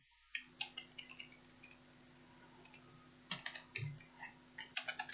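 Keyboard typing in short clustered bursts of clicks, fairly close, with pauses between runs of keystrokes over a steady low hum; no talking.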